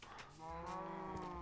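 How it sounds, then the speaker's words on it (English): Cattle on a Minecraft cow farm give a sustained, harmonic moo that swells and holds, loud and close with no other sounds. "That's my cow farm."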